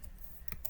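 Keystrokes tapped on a computer keyboard while entering commands in CAD software, a few soft clicks in quick succession over a low room hum.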